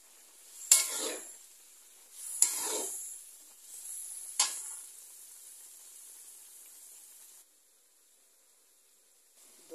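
Potatoes and tomatoes are dropped into a pan of fried spices, each addition setting off a sharp, loud hiss of sizzling that fades away; three such bursts come in sequence, followed by a quiet, steady background sizzle.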